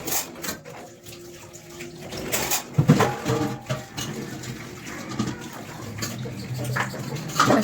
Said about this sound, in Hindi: फटाफट अपना बर्तन साफ़ कर लेती हूँ।